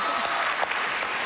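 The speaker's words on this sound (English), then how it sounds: "let's all give her an enormous round of applause as she goes off" An enormous round of audience applause erupts in a television talent competition studio as a contestant leaves the stage, with dense, steady clapping that stays loud and even from start to finish.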